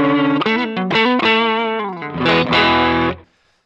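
An electric guitar on a Strat neck pickup plays a short overdriven phrase through a Sencha Drive pedal, with thick sustained notes and slides that stop abruptly into silence.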